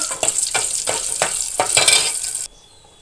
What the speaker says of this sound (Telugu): తాలింపు రెడీ చేశానండి పచ్చిపప్పు మినపప్పు అయితే వేస్తాను